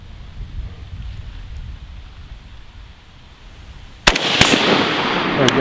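Two sharp, loud rifle shots from a Century Arms VSKA AK47 crack out close together near the end while zeroing at an outdoor range, following several seconds of wind and quiet ambient noise.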